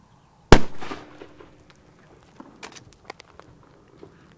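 Bravo XL firecrackers, F3 category with 1.5 grams each, set off outdoors: one sharp, loud bang followed by a short decaying echo, then scattered faint crackles and small pops.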